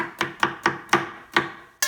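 A knife chops kale on a wooden chopping board in six or seven quick, evenly spaced crisp thuds, close up and alone.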